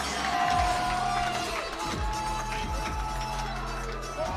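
An arena crowd at a powerlifting world-record squat attempt chants and cheers for the lifter, a dense, steady roar with rhythmic chanting swelling throughout, loud and reverberant.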